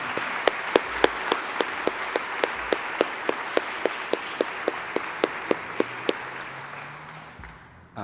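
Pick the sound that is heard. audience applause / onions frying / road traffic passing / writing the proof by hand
audience applause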